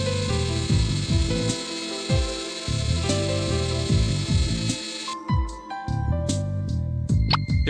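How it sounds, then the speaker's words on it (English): A lathe grinding coffee beans in the adventure game Runaway: A Road Adventure, a rasping, rubbing mechanical grind with repeated rhythmic strokes, loud and close, with bright tonal chimes and music around it and no talking. "I might be able to use the lathe to grind the coffee beans."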